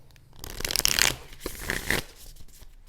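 A deck of playing cards is shuffled close up: two quick riffling bursts of papery flutter, each lasting about half a second.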